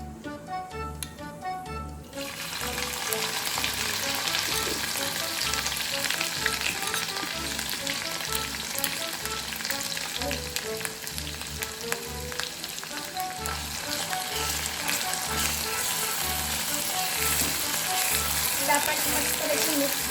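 Spice paste frying with curry leaves, mustard seeds and cumin in hot oil, a dense continuous sizzle and crackle that starts abruptly and grows slightly louder, with a faint repeating background beat and no talking.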